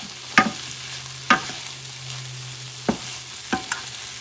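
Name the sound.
mixing Spanish rice with sardines in a frying pan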